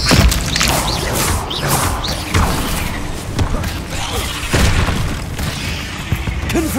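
Repeated booming fire-blast explosions from the Confringo spell in Hogwarts Legacy, loud thuds and bursts recurring every second or so amid a dense, busy game soundscape.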